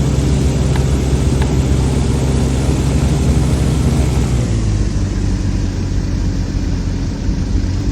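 Phoenix Air U-15 light sport aircraft engine running steadily during an ignition check in the X-Plane simulator, a loud constant engine and propeller drone with a slight drop in pitch partway through.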